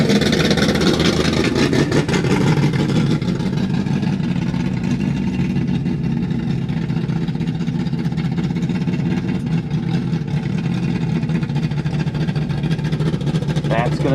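A Ford Fairmont drag car's engine runs loud and close before a bracket race, a steady rough idle with a brief rise in revs near the start, then holding even throughout.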